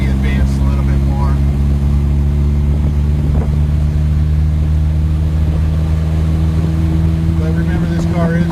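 A cold 1961 Triumph TR3B engine running with a steady low drone, close and loud, while people talk intermittently over it.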